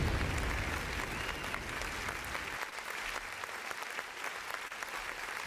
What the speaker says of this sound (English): Damn, this is a very long applause.